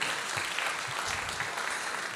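A church congregation applauds the mothers present, a full steady round of clapping from many people, fairly even and sustained, with faint voices beneath.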